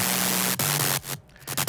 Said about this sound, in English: the concept here is sine wave into noise into distortion